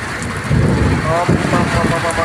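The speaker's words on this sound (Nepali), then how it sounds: "यति अँध्यारो भएर पानी आइरहेको छ, हावाहुरी आइरहेको छ" Heavy rain pours down in a dark daytime windstorm, a loud steady roar of rain and gusting wind, close and continuous, with a voice faintly mixed in.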